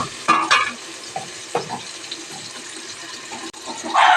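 Ginger, garlic and green chilli sizzle quietly in hot oil, interrupted by a few sharp stirring scrapes and clatters, with a splash of water or scraping near the end.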